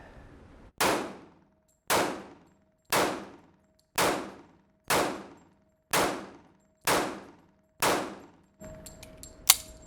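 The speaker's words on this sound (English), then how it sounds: "So let's try out some hollow points and wait till they don't feed." A pistol firing hollow point rounds, eight sharp evenly spaced shots about a second apart, each ringing and decaying, followed by some fainter clatter.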